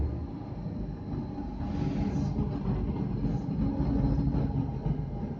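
A rack railway tram with cog-wheel tracks climbs the mountain to Montserrat in Spain, a steady low rumble and rolling clatter that swells slightly, heard from inside without voices.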